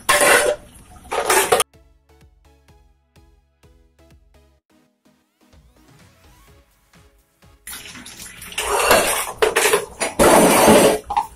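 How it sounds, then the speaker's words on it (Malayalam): Dishes being rinsed under a running tap after soaping, with bursts of splashing water at the start and the end and soft clinks of pots and plates in the quieter stretch between. "ഒരുമിച്ച് സോപ്പ് ഇട്ട് വെച്ചതിന് ശേഷം ഇങ്ങനെ ഞാനെല്ലാം കഴുകിയെടുക്കുക"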